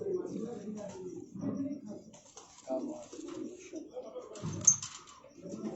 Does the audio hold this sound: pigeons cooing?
yes